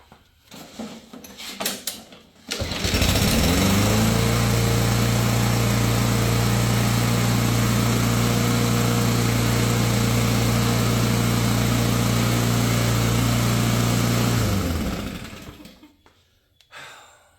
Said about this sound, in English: That there, you guys, is a perfect running mower.